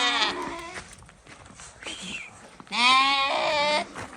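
Young lambs on a village farm bleating in a few loud, wavering calls, with a longer strong bleat near the end and quieter animal sounds and rustling between.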